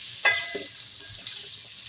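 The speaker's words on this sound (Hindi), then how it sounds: "इसको डाल के फ्राई करेंगे" Okra and potatoes fry with whole cumin and crushed red chili in a pan, a soft steady sizzle with a brief stirring clatter near the start and another light scrape later.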